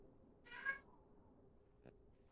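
A cat gives a single short, faint meow, followed a moment later by a tiny soft click in an otherwise quiet room.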